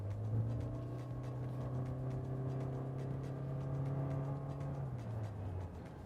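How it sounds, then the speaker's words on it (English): Toyota Corolla Cross with a CVT accelerating, a steady droning engine hum holding one sustained pitch under a whirring rumble, heard from inside the cabin, then dropping slightly near the end. "when you want power and you really want to go, the CVT, how it works with the noise"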